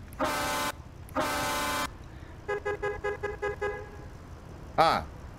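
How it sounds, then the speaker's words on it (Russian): Hennessey VelociRaptor 6x6 mod in Euro Truck Simulator 2 sounding two long horn blasts, then a quick series of short toots and a final brief honk, loud and close. "Сигнал. Даже пневма есть, хотя у меня его нету."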